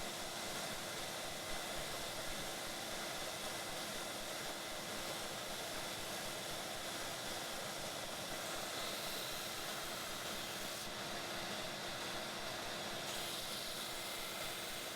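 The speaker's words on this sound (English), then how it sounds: "I set to work on the belt sander to get the scales closer to their finished shape." A belt sander shapes knife handle scales, giving a steady, dense rushing whir that runs unbroken and evenly loud throughout, with a faint tonal hum beneath and no voices.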